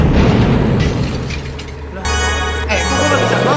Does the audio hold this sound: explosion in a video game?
yes